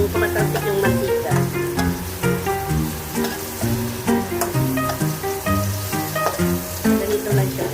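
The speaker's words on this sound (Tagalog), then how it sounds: "Yung tumatalsik yung mantika." Hot cooking oil sizzles and spits while frying, a crackling hiss running under loud rhythmic background music.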